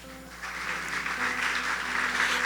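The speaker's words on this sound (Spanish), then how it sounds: "Denle un fuerte aplauso al Señor." A church congregation claps in praise, a soft, steady patter of many hands rising gently over sustained keyboard chords in the background.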